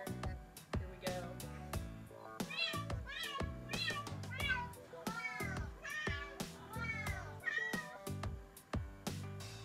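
A cat meows over and over in a fast, rhythmic run of loud, close, rising and falling calls, with short breaks between them, like a chattering conversation.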